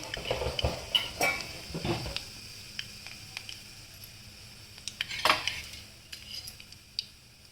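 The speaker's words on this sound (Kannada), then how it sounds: "ಸಾಸಿವೆ ಚಿಟ್ ಚಿಟ ಅಂತ ಶಬ್ದ ಬರ್ತಿರೋವಾಗ ನಾನು ಅದಕ್ಕೆ ಜೀರಿಗೆ ಹಾಕ್ತಾಯಿದ್ದೀನಿ" Mustard seeds splutter and pop in hot oil in a pan with cumin seeds added, heard as scattered sharp crackles and clinks over a low sizzle, with a louder burst of activity midway and no talking.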